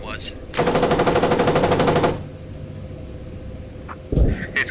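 A sustained burst of rapid automatic gunfire rattles for about a second and a half in the tactical shooter game Squad, loud and close, followed by a fainter low thump.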